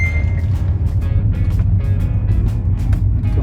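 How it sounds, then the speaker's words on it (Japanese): A supercharged Subaru Sambar kei truck with a manual gearbox, four-wheel drive and a high roof climbs a slope in second gear, its engine a steady, loud, close drone with rhythmic pulses throughout. "スーパーチャージャー付きのサンバーがすごく力を発揮してくれるのはこういった坂道です。"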